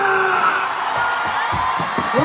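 A crowd in New York cheers and whoops for the presenter Pachá, with loud shouts over a dense roar and several short yells near the end.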